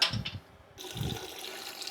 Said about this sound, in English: take the grain bag off and just let it drip into the pot